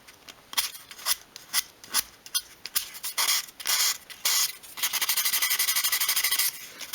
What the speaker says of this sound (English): take a piece of your fine grade sandpaper and we're just going to tidy up these corners